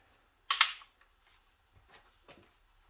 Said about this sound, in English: I'm gonna shoot some of these 50 caliber solid plastic riot balls.